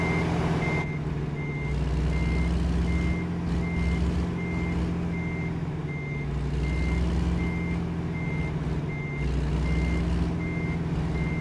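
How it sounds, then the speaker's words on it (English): A truck engine in American Truck Simulator, with a dirty throttle potentiometer, drones loudly and surges unevenly at low throttle, while a steady reversing beep repeats at regular intervals over it. "you can hear the way it's jerking around at low throttle position"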